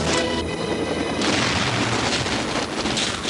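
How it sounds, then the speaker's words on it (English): A huge movie pyrotechnic explosion staged with miniatures, such as a helicopter blowing up against a tower, delivers a continuous loud roaring boom with rumbling low end and crackling bursts, sustained without pause. "Some movie explosions are so enormous that there's only one way to pull them off"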